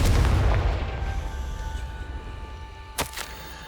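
A Confringo fire-spell explosion in Hogwarts Legacy gives a loud booming burst at the start that rumbles away, then a second, shorter blast a few seconds later.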